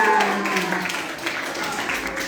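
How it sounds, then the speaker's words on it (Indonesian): An audience of schoolchildren at an Indonesian legal awareness session gives steady applause, a dense continuous wash of clapping heard up close with a few voices mixed in. "Tepuk tangan buat kita semua"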